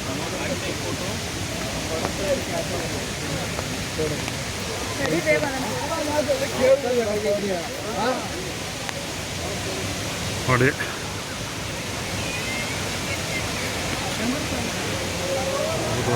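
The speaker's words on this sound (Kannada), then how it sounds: "ಜರಿ ಫಾಲ್ಸ್ ಸೂಪರಾಗಿದೆ ವಾ ಬ್ಯೂಟಿ ಜರಿ ಫಾಲ್ಸ್ ಬಂದಿದ್ದೀನಿ" Jhari Falls near Chikkamagaluru, Karnataka, gives a steady, broad rush of falling water throughout, with voices faintly audible beneath it at times.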